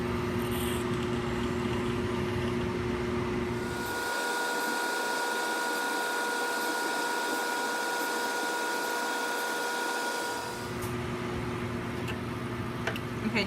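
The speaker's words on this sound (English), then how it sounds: "vacuum off all the media" A lab vacuum aspirating liquid media from a cell culture plate, a loud, steady motorized whine throughout, dipping in its low rumble for several seconds in the middle before returning.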